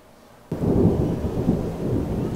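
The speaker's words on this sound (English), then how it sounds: "Did you hear the thunder?" Thunder during a monsoon storm, heard from inside a converted school bus: a sudden loud deep rumble breaks in after a quiet moment and rolls on steadily to the end.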